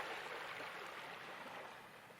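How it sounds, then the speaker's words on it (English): Ocean waves washing in a soft, continuous hiss, faint and distant, with no voices present. "Only the rhythm of the waves"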